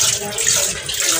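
Tap water runs steadily into a home kitchen sink during washing of small dishes, a close, loud, continuous splashing stream throughout.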